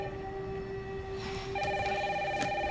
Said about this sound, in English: Good old telephone.